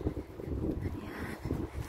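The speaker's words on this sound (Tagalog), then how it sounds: "Mahalakas ang hangin" Strong wind in Saudi Arabia roars steadily against the microphone, a low rumbling gust noise that stays loud throughout with no talking.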